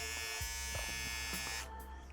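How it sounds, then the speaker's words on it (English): A small handheld mini electric shaver runs steadily with a dense, close buzzing hum, a few faint clicks of handling over the motor, and the buzz drops slightly in pitch near the end. "You can actually feel that power for a very small shaver."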